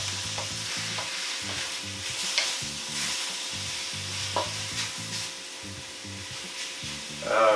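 Pork sizzles in a pan as a utensil repeatedly scrapes and stirs it, giving a steady rhythmic rasping over a continuous frying hiss, close and moderately loud.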